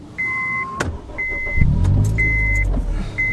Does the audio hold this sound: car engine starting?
yes